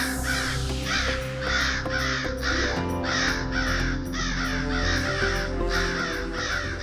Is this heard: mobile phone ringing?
no